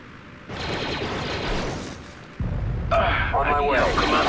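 A grenade goes off in the video game Star Wars: Republic Commando, with loud rumbling blasts and a sharp second explosion partway through, mixed with gunfire and radio-style voices talking over the top.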